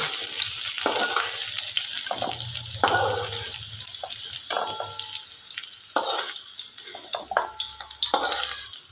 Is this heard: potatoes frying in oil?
yes